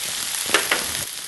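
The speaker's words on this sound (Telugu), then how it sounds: "కార్న్ వేసుకొని కార్న్ని మనం ఫ్రై చేసుకుంటున్నాం" Frozen corn sizzles and fries in a pan for corn upma, a steady close hiss broken by a couple of brief stirring clicks, with no talking.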